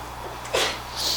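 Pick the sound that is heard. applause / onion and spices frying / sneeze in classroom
sneeze in classroom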